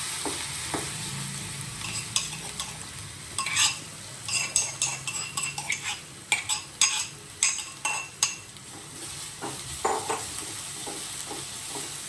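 Garlic, asafoetida, garam masala and turmeric hit hot oil with a continuous sizzle, broken by repeated clinks and scrapes of a spoon stirring against the metal pan, close and fairly loud.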